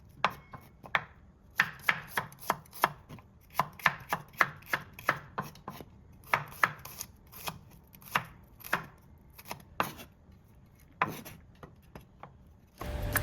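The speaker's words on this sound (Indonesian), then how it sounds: "Ini aku irisin bawang merahnya 3 siung saja" Three shallots being sliced with a knife on a board, a long series of crisp, close chopping taps in a quick, slightly irregular rhythm with short pauses and no talk.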